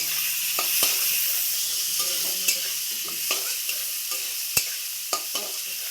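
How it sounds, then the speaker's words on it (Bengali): Onions frying in hot oil, a steady bright sizzle with scattered clicks and scrapes from stirring, close and continuous throughout. "তেলটা গরম হওয়ার পর কিছুটা পেঁয়াজ হালকা করে"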